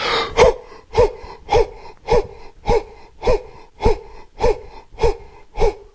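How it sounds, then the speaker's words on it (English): Rhythmic breathing during a deep breathing exercise, about ten sharp audible breaths in and out at a steady pace of roughly two per second, close and clear with no talk. "stand up, breathe in, come down, breathe out"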